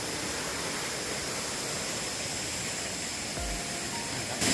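Steady, dense rushing water roars without a break, the Montha Than waterfall in Doi Suthep-Pui National Park, Chiang Mai, close by with a slight surge near the end.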